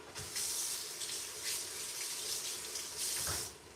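Tap water runs steadily into a sink as onions are rinsed under it, a continuous hiss with soft splashing surges as the stream hits the vegetables, close by and moderately quiet, with no talking.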